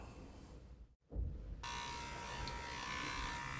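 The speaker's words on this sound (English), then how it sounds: "I'm just going to see if I can get in there with a Dremel bit." A Dremel rotary tool with a bit starts up and runs at low speed while it works on a model refit part, a close, steady high buzzing whine after a brief stop and restart.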